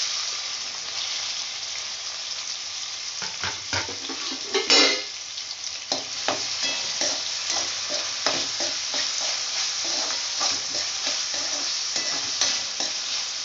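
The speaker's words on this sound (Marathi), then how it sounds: "आता आपण या तेलामध्ये हा कांदा घालणार आहोत" Finely chopped onion sizzles steadily in hot oil, a continuous close frying hiss with a sharp burst as the onion goes in and occasional stirring scrapes; no one talks.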